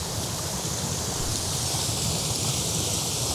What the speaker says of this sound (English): it's another pretty neat looking, smaller, like shorter waterfall